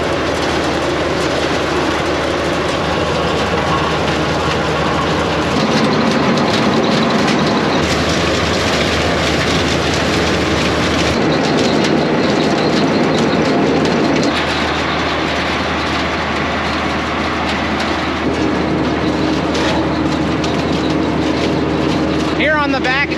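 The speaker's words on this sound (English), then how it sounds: "The beans and leaves then follow a system of conveyors that runs into a fan that will blow all the light plant debris out." A bean harvester runs steadily with its conveyors feeding into a fan that blows out light plant debris, making a loud continuous mechanical roar with rattling and a whine near the end, while a voice talks over it.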